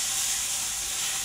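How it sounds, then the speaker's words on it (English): Steady sizzling hiss of pancetta frying in a pan, close and continuous with no breaks, and no voices over it. "look at that delicious pancetta frying"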